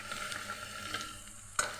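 Mutton pieces frying in hot oil with softened onions for a goat-head curry cooked without water, giving a steady soft sizzle with faint stirring clicks and a brief sharper spatter near the end.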